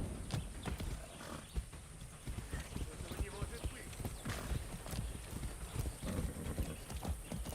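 Hooves of a horse galloping in the video game Far Cry 6, a steady rapid clip-clop running throughout over game ambience, with someone talking over it.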